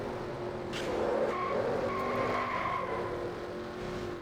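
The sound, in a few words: race car skidding and wrecking in NASCAR Racing 2003 video game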